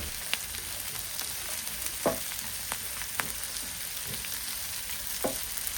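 A small piece of ginger and a whole garlic frying in a pan, a soft constant sizzle with a few sharp ticks and scrapes of a stirring spoon, fairly faint and without speech.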